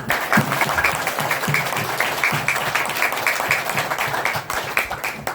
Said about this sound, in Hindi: आने की खुशी में जोरदार तालियां